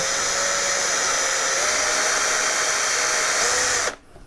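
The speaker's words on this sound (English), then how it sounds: "I'm going to take my drill, pop it into my hole here" A power drill whines loud and steady for about four seconds, boring a pilot hole into plywood, then cuts off abruptly into near silence.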